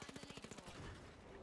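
Rapid automatic gunfire in the online shooter game The Finals, a fast even burst of sharp shots that then blurs into a denser rattle, loud and close with no talking over it.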